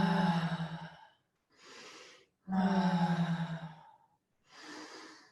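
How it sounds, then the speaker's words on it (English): Deep, heavy breathing from a breathwork session: two loud, voiced inhales, each followed by a softer breathy exhale, in slow alternation close to the listener with no talking. "Bigger breaths here."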